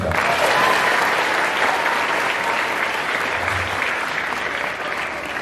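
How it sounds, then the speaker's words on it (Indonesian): Students at a religious school gathering receive loud, sustained applause from the audience, a thick, continuous clatter of many hands that stays strong and gradually eases toward the end. "Tepuk tangan dulu untuk mereka."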